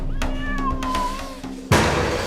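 A pet cat, a family's beloved kitty, meows in a drawn-out, wavering cry at close range, followed by a sudden loud thump or rustle near the end.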